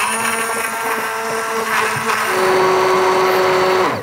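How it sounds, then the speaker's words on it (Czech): An immersion blender roughly purées barbecue sauce in the kitchen, giving a loud, steady motor whine close up that shifts pitch partway through as the blade works the sauce, with no talk over it. "Vezmu tedy tady tyčový mixér"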